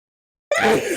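A single sneeze bursts out suddenly after a half second of silence, close and fairly loud, with a sharp onset and a breathy tail, indoors during a craft session with gel prints and paints.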